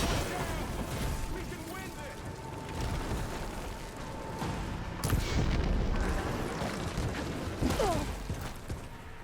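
A canister explodes in Horizon Forbidden West with a sudden sharp blast midway, set against busy game sound and voices.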